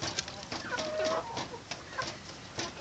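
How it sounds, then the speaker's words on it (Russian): A rooster gives soft, scattered clucks close by while eating leftover food, amid faint background noise and a few brief chirps. "Как вы видите, петух доедает все остатки."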